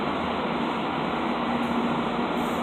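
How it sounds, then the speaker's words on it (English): A Long Island Rail Road train pulling into Carle Place station during a Main Line shutdown, a dense steady rumble and roar of the approaching cars with a faint high tone, close and continuous without voices. "So here comes the train"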